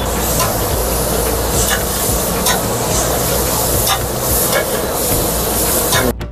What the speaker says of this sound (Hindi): अपन ने टमाटर डाले, अब टमाटर की बुनाई होगी